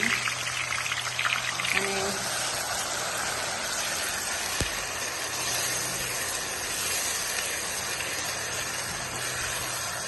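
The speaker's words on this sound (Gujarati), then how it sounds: "તો ઓઇલ ગરમ થઈ જાય પછી કોબી કરેલી નાખી દેવાની." Chopped cabbage frying in plenty of hot oil for pav bhaji, a steady loud sizzle and hiss running throughout, with a brief spoken word near the start.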